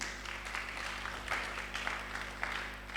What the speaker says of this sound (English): I want you to clap for my friend again.